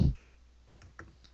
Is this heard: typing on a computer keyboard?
yes